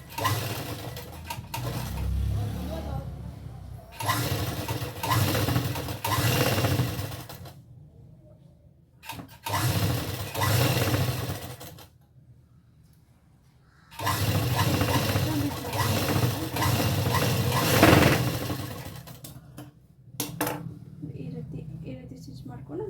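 A sewing machine runs in several bursts of steady whirring, stitching a strip of waistband fabric onto a pair of pants. The runs stop and start with short pauses between them, and no one talks.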